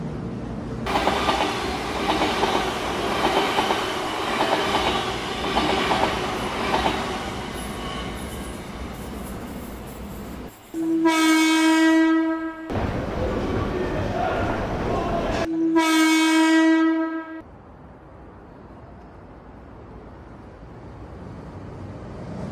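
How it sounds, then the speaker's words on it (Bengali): Sound-effect train rolls along the tracks with a continuous rumbling clatter, broken twice by long, loud, tonal horn blasts before the noise settles into a quieter drone. "আমাদের ট্রেন তখন এগিয়ে চলেছে"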